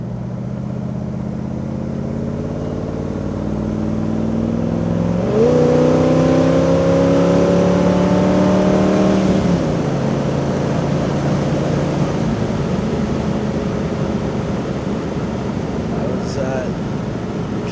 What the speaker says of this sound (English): And this car is very smooth through the RPM range.